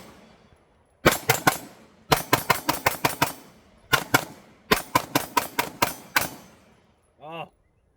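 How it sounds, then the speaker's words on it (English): A Springfield Armory Echelon 9mm pistol fires in loud, sharp bursts, four rapid strings of closely spaced shots separated by short pauses, followed by a brief voice at the end. "And now let's shoot the Echelon."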